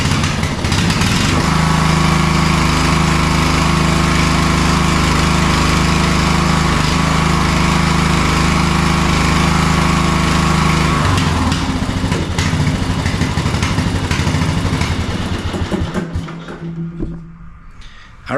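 A Briggs & Stratton 18.5 Intek engine on a Craftsman riding mower with a repaired compression release runs loud and close at a steady idle, then cuts off and winds down near the end.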